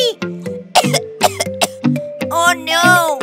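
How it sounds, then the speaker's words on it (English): A child coughs several times in short bursts, mixed with high-pitched sung or playful vocal sounds. "Oh no! I got a little sick and I'm coughing."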